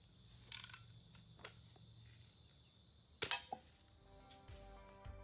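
A Daisy BB gun fires at old rainwater-filled cups from 20 feet, giving a few faint, sharp snaps and one louder crack with a brief clatter, set against quiet background hum.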